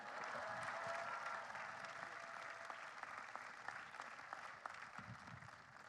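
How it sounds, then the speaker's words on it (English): Applause from the audience at a graduate commencement ceremony, a steady, even wash of many hands clapping in a large space, heard at a distance and quite faint, fading slightly toward the end. "Can we have an applause for"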